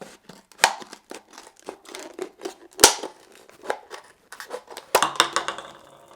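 Scissors slowly cutting across a plastic Smart Water bottle to make a Sawyer Squeeze scoop cup, with a series of close, uneven snips and crinkling plastic crackles, some sharper cuts standing out.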